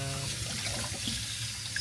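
A kitchen sink sprayer runs hot water over apples, a steady hissing spray with splashing into the basin, close and continuous with no talk.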